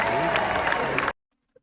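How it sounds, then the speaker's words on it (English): An awards-show audience applauds and cheers in a dense, steady burst from a played-back recording, cutting off abruptly into silence. "You hear the crowd"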